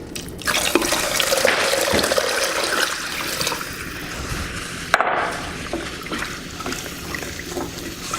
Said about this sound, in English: So now I'll add my water.